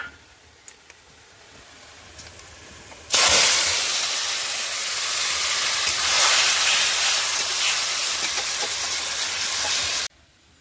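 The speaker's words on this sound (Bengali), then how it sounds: "কড়াইটা গরম করে একটু তেল দিয়ে দিয়েছি এবার দিয়ে দেবো ম্যারিনেট করে রাখা লোটে মাছটা" Marinated Bombay duck fish lands in hot oil in a kadai, bursting into a loud, close hiss that holds steady for several seconds before cutting off sharply, after a quiet background.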